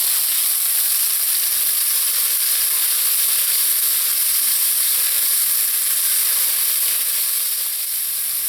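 Garlic and green seasoning fry in a pot, giving a steady, loud, continuous sizzle and hiss that holds evenly throughout with no talking.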